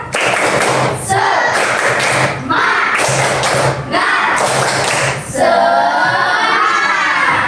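Children in a sixth-grade classroom clap a rhythmic spirit-clap routine together, loud bursts of group clapping with shouted chants in repeated phrases, then a teacher talks after the last burst.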